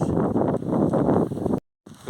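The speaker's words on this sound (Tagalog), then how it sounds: "Grabe, sobrang lakas ng hangin." Strong wind buffets the microphone during a barefoot run, making a loud, rough, rumbling roar that cuts out abruptly to silence near the end and then briefly returns.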